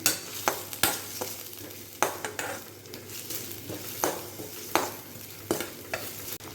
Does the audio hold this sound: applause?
no